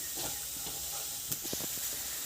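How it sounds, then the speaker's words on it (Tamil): Chili powder and spices gently frying in a little oil for a fish curry give a soft, steady sizzle and hiss, with a few faint clicks and stirring sounds close by. "லைட்டாக இந்த எண்ணெயிலே கொஞ்சம் அப்படி வதங்க விடுங்க"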